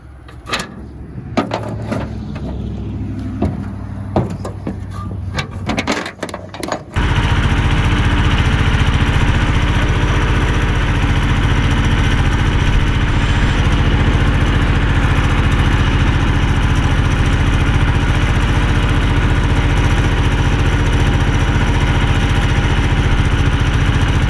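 A few knocks and handling sounds, then an engine starts up and runs steadily with a loud, low rumbling drone that continues to the end.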